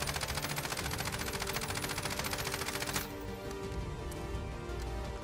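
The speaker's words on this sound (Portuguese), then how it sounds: "vou pegar um rifle M4A1, o Ram 7 e a AK e a gente vai tirar na parede para comparar" Ram 7 rifle in Call of Duty Warzone firing full-auto at a wall, a rapid loud stream of shots for about three seconds, then stopping into a lower ringing tail and ambient hum.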